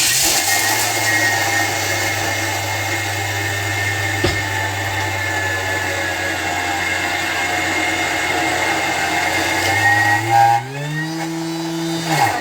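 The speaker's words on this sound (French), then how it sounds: "je vais mixer 15 secondes vitesse 10, on va aller hacher complètement" A food processor at speed 10 chopping dates and raisins for energy balls runs as a loud, steady motor whir for about ten seconds, then its pitch sweeps upward as the blades spin more freely.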